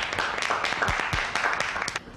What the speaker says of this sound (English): let's give our second Mr. Lin Yutang a round of applause